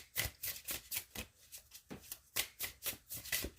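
Tarot cards being shuffled by hand, a quiet series of rhythmic riffling bursts, about a dozen in quick succession, close and alone.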